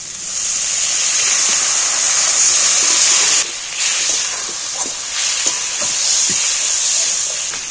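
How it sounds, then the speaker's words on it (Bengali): Water poured into frying poppy seeds in a pan bursts into a loud, steady hissing sizzle that briefly dips and surges again as it boils. "এবার আমি পোস্তটার মধ্যে একটু জল ঢেলে দিচ্ছি।"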